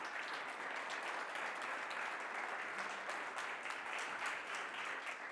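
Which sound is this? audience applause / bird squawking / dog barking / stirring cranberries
audience applause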